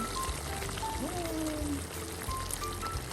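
Reserved broth pours into a pot of jackfruit stew with lotus root, a short, steady liquid splashing and trickling close by, with faint talking over it.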